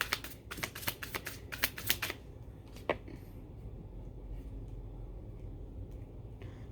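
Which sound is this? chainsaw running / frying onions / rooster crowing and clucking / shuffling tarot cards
shuffling tarot cards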